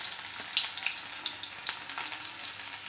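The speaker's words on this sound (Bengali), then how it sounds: "পুরোপুরি যখন গরম হয়ে যাবে তখন এর মধ্যে অনিয়নটা ছেড়ে দিতে হচ্ছে।" Sliced onion frying in hot oil for vegetable-free chow mein, a steady close hiss of sizzle with small crackling pops and the occasional light stir, no voices.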